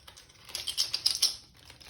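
Spare plastic keycaps for a Keychron K4 keyboard clatter as they are dropped back into their box, a quick run of close, light clicks and rattles lasting about a second.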